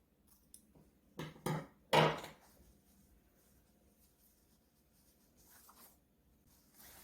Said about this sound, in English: I like to trim just a little bit of the seam allowance here in the corner